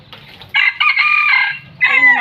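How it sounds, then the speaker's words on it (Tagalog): A rooster crows loudly and close by in two bursts, a long drawn-out call followed by the start of another, with no talk over it. "Patayin na natin yung manok."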